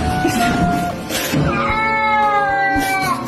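A cat cries out in loud, drawn-out, wavering yowls close by, several strained calls running together over about three seconds, with no voices.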